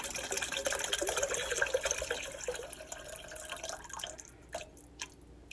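Beef broth pours steadily into a pot with a continuous splashing gurgle, then thins to a few drips and spatters near the end.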